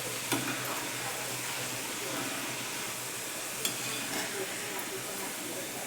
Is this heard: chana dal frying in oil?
yes